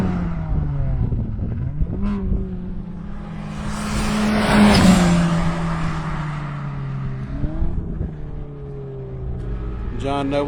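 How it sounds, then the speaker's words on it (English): A race car on a road course at Carolina Motorsports Park drones at high revs, its engine note rising and holding near the limiter, swelling loud as it passes close, then fading as other cars follow. "getting on the rev limiter there a little bit going into 1"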